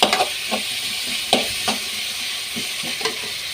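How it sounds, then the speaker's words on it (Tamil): Tomato and onion sauté in a pan for kurma, a steady close sizzle broken by repeated scraping and clinking strokes of a spoon stirring, with no voices. "இப்போ தக்காளி ஆட் பண்ணிக்கலாம். இதையும் கொஞ்சம் நல்லா வதக்கிடுவோம்."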